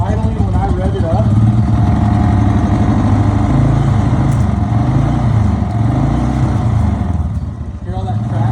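Ford Ranger engine idling and briefly revving up close, a steady low rumble with a slight rise in the middle, while someone talks over it throughout.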